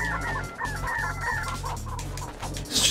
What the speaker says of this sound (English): It's just all chickens.